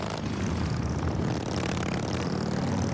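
A Harley-Davidson motorcycle engine rumbles steadily and loudly for the whole stretch, a dense low drone with broad noise above it and no pauses.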